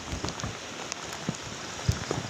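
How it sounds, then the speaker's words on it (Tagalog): Rain falls steadily on an okra field during a storm, a soft diffuse patter with scattered heavier drops landing close by, and no talking. "kailangan natin itong putihin kahit umuulan at may bagyo"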